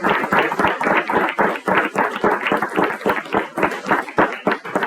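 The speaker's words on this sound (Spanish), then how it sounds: "Un aplauso," An audience at a startup event about raising investment applauds steadily for about five seconds, many hands producing a dense, even patter close to the listener.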